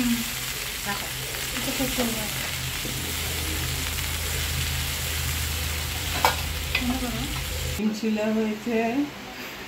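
Ramen ingredients with soy sauce, tomato sauce and sugar sizzle and get stirred in a pan, a steady close frying hiss with spoon scrapes, while people talk over it; the hiss drops away near the end.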